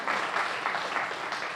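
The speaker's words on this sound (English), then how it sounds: "You know, and you're right, we can applaud that." Audience clapping at a HUD grant funding announcement, a steady dense patter of many hands filling the room, loud and continuous with faint speech beneath.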